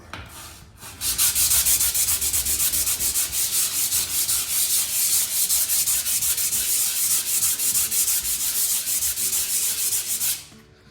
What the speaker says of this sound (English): I'm going to sand those back, and down there I'm going to sand those areas back